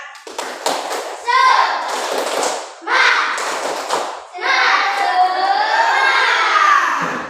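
A class of fourth-grade children in an Indonesian classroom bursts into a loud, spirited chanted cheer with rhythmic clapping, in several energetic shouted bursts from the whole group.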